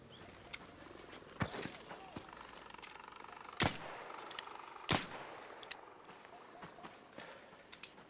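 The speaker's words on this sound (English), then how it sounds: "My shots were so bad, it didn't even realize I was shooting at it." Gunfire in the video game ARC Raiders: a handful of sharp, separated shots scattered over ambient game background, a few standing out loud and close while others are fainter.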